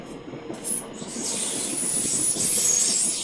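Interior of a North London line train riding through London, with a rumbling rolling noise, faint wheel squeal and rail clatter, steady and fairly loud throughout.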